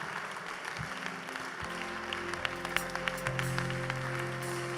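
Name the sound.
congregation clapping hands while praying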